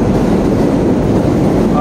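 Subway train rumbling at Court Square station in New York City, a loud continuous low roar throughout with steady noise and no clear speech.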